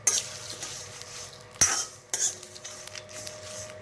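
Whole cumin and fenugreek seeds being lightly dry-roasted in a pan for mango pickle spice, with scattered close scraping and stirring clinks from a spoon against the pan and a faint background sizzle.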